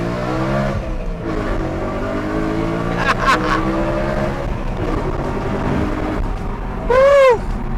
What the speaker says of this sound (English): I love the V8 rumble that the car produces